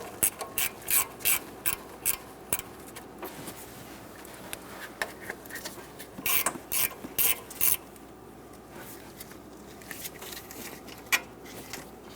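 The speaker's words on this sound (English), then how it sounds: "Using a 10mm wrench or socket, remove the nut off of the back." A ratchet wrench clicks in rapid bursts while loosening a 10mm nut from the back of the alternator on a 1988-1999 GMC K1500 5.7L V8, with short pauses between the cranking runs.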